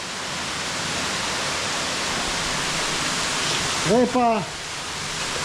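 Waterfall on the Tolminka plunging into a pool, a steady loud broadband roar filling the whole clip, with a short burst of speech near the end.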